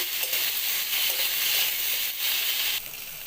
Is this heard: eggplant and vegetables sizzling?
yes